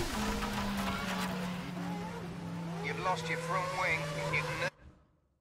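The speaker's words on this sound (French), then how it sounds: "Oh là là, même le son du rétrogradage." A V8 Formula 1 racing car in the F1 2010 video game at the Valencia circuit roars steadily, then the pitch jumps through several quick downshifts before the sound cuts off abruptly.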